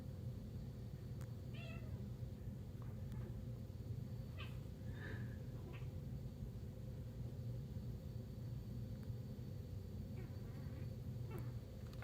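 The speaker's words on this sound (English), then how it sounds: "I hear Millet wrestling back there some more, and someone is complaining about it." Kittens wrestle and complain indoors, with a few short, faint mews and squeaks scattered over a constant low rumbling background hum.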